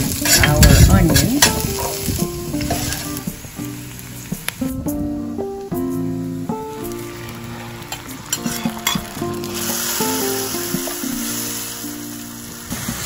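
Garlic and onion fry in sesame oil as a sauce base, a steady close sizzle with stirring scrapes and light utensil clinks against the pan throughout, no voices.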